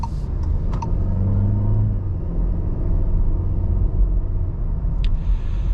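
A 2025 VW Jetta with a 1.5 turbo engine, heard from inside while driving over bumps: a steady low road rumble and engine drone with a few faint clicks, no talking.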